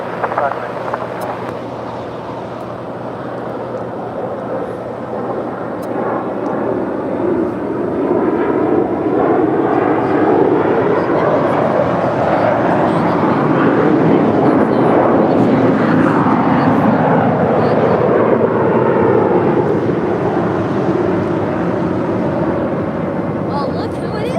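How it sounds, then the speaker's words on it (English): An American Eagle Embraer E175LR regional jet departs LAX, its engine roar building and swelling with sweeping whine tones, loud and sustained, while a voice talks over it. "Our next departure, American Eagle, Flight 6242, heading to San Jose, California. It's an Embraer E175LR."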